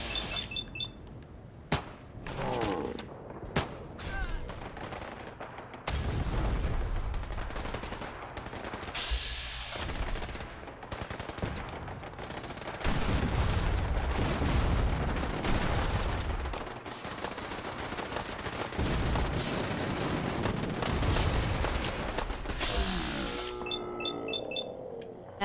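Gunfire from enemy gunners in the video game Fallout: bursts of automatic and single shots that crackle and clang through a busy combat soundscape, loud and sustained for most of the stretch.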